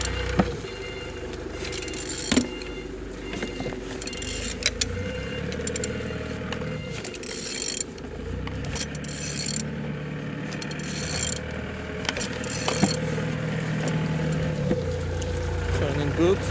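An Opel Z18XER car engine is turned over by hand, giving mechanical clicks, ratcheting and pulley-like turning noises with thuds at intervals under a steady hum, and someone talks over the work.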